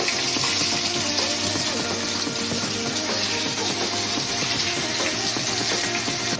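Garlic sizzles in a pan as a tempering for a simple aubergine and tomato chorchori, a loud, continuous hiss and crackle that stays steady throughout with no speech.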